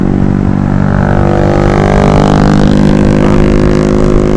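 A Honda Beat motorcycle fitted with a loud aftermarket exhaust revs nearby, a loud, sustained buzzing engine drone that fills the clip.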